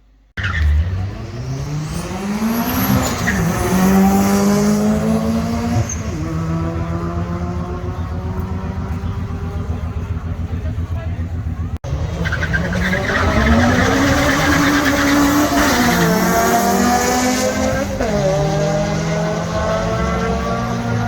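Cars, including MR2s, race down a drag strip, their loud engines revving hard through rising gear sweeps with tire squeal, one long run followed by a sharp cut and another roaring pass.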